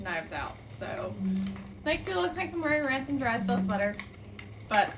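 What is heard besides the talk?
No distinct noise like a dog, phone or traffic.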